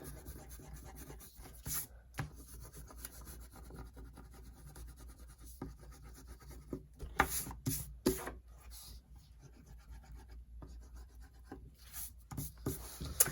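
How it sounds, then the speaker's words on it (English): Pencil marks on a drawing are erased with soft, scratchy rubbing strokes in uneven bursts, close and quiet, with a few louder scrubbing passes. "I never erase the pencil marks. I'm gonna get rid of that right now."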